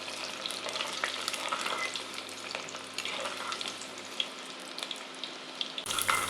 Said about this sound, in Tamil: அது வரைக்கும் நம்ம அதில் எண்ணெயிலே வதக்கி விடணும்.